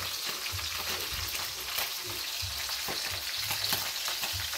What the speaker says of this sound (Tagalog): Pinirito yung isda, sahog-sahogan natin yan ng gulay friendship.